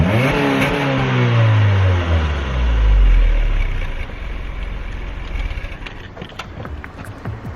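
Honda Civic with a new exhaust setup revs hard up and down, one loud rising sweep peaking then dropping back to a rumbling idle with crackles near the end.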